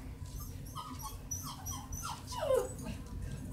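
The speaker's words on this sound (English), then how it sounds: "Sorry for dogs once again." Dogs in a room whimper with a series of short, high, rising whines and yips, close by and fairly soft, the whimpers coming irregularly over a low background rustle.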